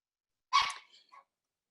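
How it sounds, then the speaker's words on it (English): A dog gives one sharp, fairly loud bark, then a short, softer yelp, with silence around it. "with the dogs barking, sorry"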